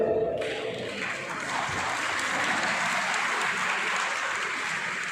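An audience at a Kamal Foundation ceremony in Jamner honouring meritorious students breaks into sustained applause. The steady clapping swells after a sharp start and keeps a dense, even wash throughout.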